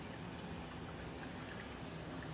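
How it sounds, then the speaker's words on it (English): Water drains steadily from an aquaponics grow bed through a bell siphon, a constant dense rushing trickle that stays even and close throughout with no pauses. "And so the water's draining."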